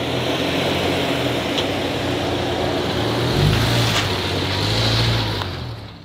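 An off-road vehicle on a Moab shelf-road trail drones steadily at close range, its engine note rising partway through as the driver gives it more gas to carry momentum, with a constant wind-like rush and no talking.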